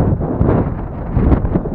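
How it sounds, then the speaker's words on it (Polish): Strong gusts buffet the microphone of a Bugs 3 Pro Walkera drone flying at height, producing a loud, low, rumbling roar that surges and dips without a break. "Oj, wieje teraz bardzo mocno"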